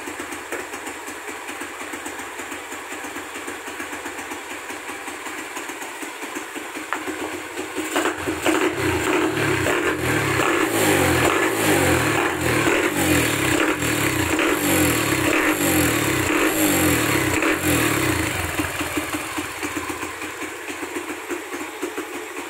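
A Honda XRM motorcycle that sat unused for two years idles with a low putter, then revs hard in a series of rhythmic throttle bursts for about ten seconds before settling back toward idle, loud and close.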